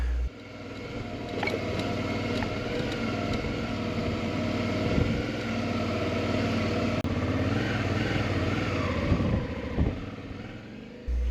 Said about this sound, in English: I've got a medium-sized touring adventure bike, which is great for carrying lots of baggage and for carrying me